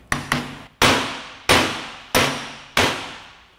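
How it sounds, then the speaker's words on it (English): A hammer striking a Land Rover propshaft yoke held in a vise to drive out universal joint caps: two lighter taps, then four loud metallic clangs at a steady pace, each ringing briefly before the next. "now you're hammering through on the yoke to get them to come out one side, to get the cap to pop out one side"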